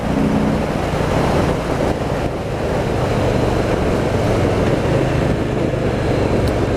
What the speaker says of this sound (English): Do you know what I love about that exhaust tone? It's deep.